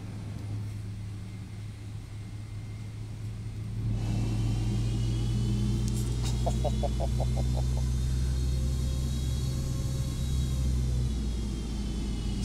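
Boeing 777-200LR jet engines spool up while parked with brakes set in the X-Plane 11 simulator, a steady low drone that thickens and grows louder after a few seconds, with rising whine tones and a short series of clicks.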